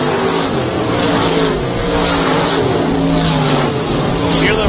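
A field of race cars accelerates together after a green flag restart at an oval track, a dense, loud roar of engines sustained without a break and heard from nearby.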